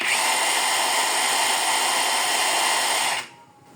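A MOLLAR cordless circular saw spins at its low RPM setting, giving a loud, steady whine with no load. It runs unbroken for about three seconds, then cuts off abruptly.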